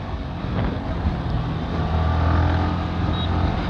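A new Yamaha R15 V4 motorcycle rides along the road in normal mode with a steady engine drone and rushing wind noise, loud and continuous throughout.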